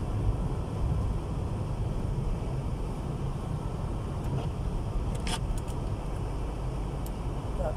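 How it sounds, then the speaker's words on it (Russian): A car passing along a snowy road during a blizzard in Kirovsk, a dull low engine rumble and wind roar that stays steady throughout, with a few faint clicks. "Так, опять машина."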